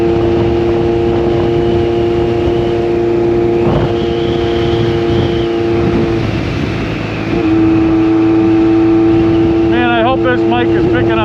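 A 1986 Honda CB1000 custom motorcycle idles with a steady, loud engine drone that shifts pitch midway and rises into a brief rev near the end.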